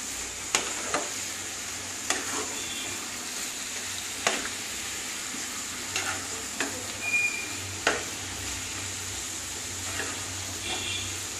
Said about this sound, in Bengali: গ্যাসটা বাড়িয়ে দিতে হবে, হাই ফ্লেমে একটু কষাতে হবে এটাকে